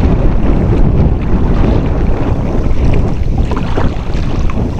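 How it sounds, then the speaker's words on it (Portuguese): Wind-driven ripples slap against a kayak on the Caí River, making a loud, continuous wash and lapping churn that mixes with heavy wind buffeting on the microphone. "esse aqui é marolas do vento mesmo"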